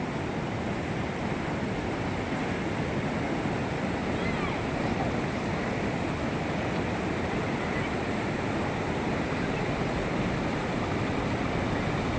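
A constant, heavy rush of churning water roars without pause, loud and close, with wind buffeting the microphone, as strong waves flow near Bhima Lingam.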